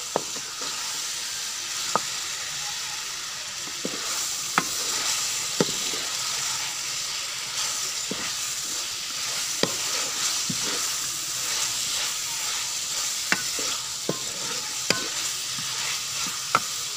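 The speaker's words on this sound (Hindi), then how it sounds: "अब हम इसमें डालेंगे कद्दू, बिस्मिल्लाहिर्रहमानिर्रहीम। और इनको खूब मिक्स करेंगे।" Pumpkin stirred and fried with masala in a pan for a chana dal and pumpkin dish, a loud, steady sizzle with intermittent sharp clicks of a spoon scraping and tapping the pan.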